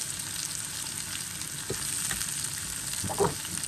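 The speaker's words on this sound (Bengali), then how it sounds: "একসাথে টোফু হচ্ছে ভাজাও হোক, আর হচ্ছে পেঁয়াজটাও সুন্দর করে একটু ভাজা হোক" Steady sizzling of tofu and onion frying in a hot pan, with a few louder stirring scrapes near the end.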